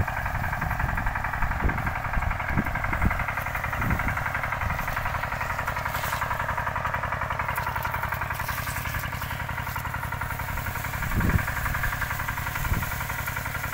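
A tractor engine runs steadily in a sugarcane field, with a loud, continuous chugging throb and a few louder thumps and knocks along the way, and no talking.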